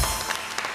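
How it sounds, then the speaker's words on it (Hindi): A brief burst of audience clapping on a talk show set honours Khalil ur Rehman Qamar, a short wash of many hands without any voices. "तालियां खलील साहब के लिए"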